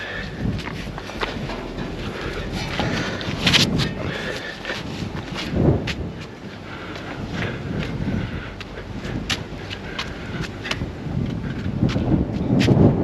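Strong wind gusts buffet a microphone while someone climbs a ladder among buildings in an abandoned historical mining town in New Zealand, with a loud, steady roar that swells and rushes throughout and has no talk over it.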